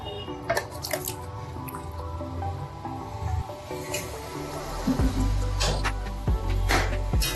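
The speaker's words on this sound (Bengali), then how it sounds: "এবার আমি এর মধ্যে দিয়ে দেবো মাংসটা" Chicken pieces tipped into a pot of cooked-down spice masala with a splash of water, giving wet squishing and dripping sounds, then a louder, heavier hiss and sizzle in the last few seconds as the meat hits the hot pan.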